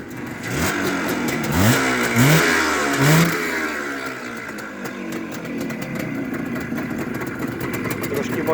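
A motorcycle engine is revved a few times in quick rising bursts, then settles to a steady loud idle, close to the listener with outdoor background noise.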